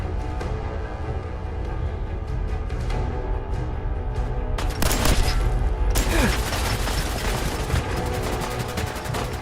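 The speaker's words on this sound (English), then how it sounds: "Oh, they got Tommy guns?" Bursts of Tommy gun fire crackle in a video game, dense rapid volleys with booming hits that swell louder partway through and keep rattling steadily to the end, with no voices over the shooting.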